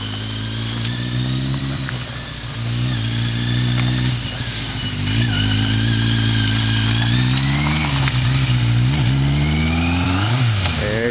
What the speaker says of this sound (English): Okay, it's October 3rd on a Sunday and Michelle's first solo ride